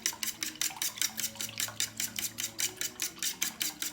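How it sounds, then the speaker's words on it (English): A whisk or spoon beats milk and egg together in a bowl, making a fast, even series of rhythmic scraping clicks, about four per second, close and clear with no voices. "after you put the milk and the egg together, you will stir it"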